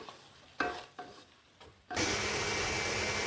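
Raw ground tomato paste is stirred in a pan for a paneer peas butter masala, first with a few scraping strokes of the spoon, then a loud, steady sizzle as it sautés.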